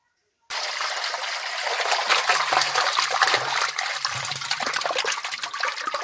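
Water pours out of a clay cooking pot holding live magur fish, a loud, close, continuous splashing gush that starts abruptly and runs without a break to the end.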